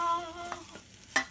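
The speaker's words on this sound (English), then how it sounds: "Magically sauteed onions." Onions sauté in a pan with a soft, close sizzle and a couple of quick stirring scrapes over about a second, no talking.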